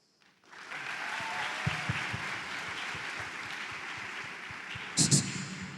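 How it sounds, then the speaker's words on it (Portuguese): Audience at a mission night event bursts into applause, a dense, sustained wall of clapping that swells quickly and holds steady, with a brief louder cheer near the end. "Uma salva de palmas."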